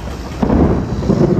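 Thunder during a windy storm, just before the rain arrives, a deep low rumble that swells and rolls on without a sharp crack.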